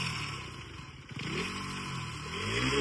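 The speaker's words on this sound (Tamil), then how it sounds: "பாருங்க, ஃபர்ஸ்ட் எக்ஸாஸ்ட் சவுண்ட் பார்க்கலாம்" A KTM Duke 250 motorcycle exhaust rumbles at moderate distance, with a single-cylinder engine note swelling and rising in pitch as it revs over about three seconds, with no talking.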